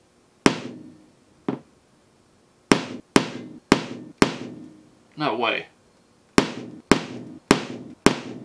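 Ball peen hammer striking a car windshield, a series of about ten sharp, loud cracking impacts with short ringing tails, irregularly spaced, with a brief exclamation from a voice partway through.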